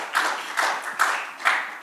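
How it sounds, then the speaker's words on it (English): Audience members at a hackathon's final pitch session clap after a team's presentation, in a short, moderately loud patter of hands that comes in a few uneven waves. "Please give it a round of applause."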